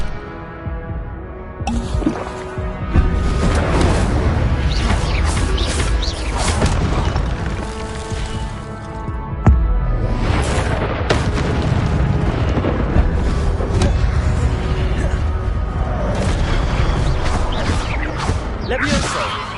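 Incendio fire spell effects from a video game form a loud, sustained whooshing roar with deep booming swells that surge again midway, and the sound continues almost unbroken throughout.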